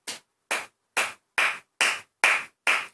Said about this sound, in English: And that gets the slow clap of the episode